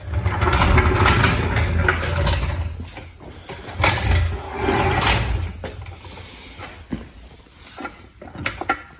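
A Daytona 300 floor jack raises a Subaru STI in a garage, a close series of mechanical clunks and ratcheting pumps with irregular bursts and short pauses.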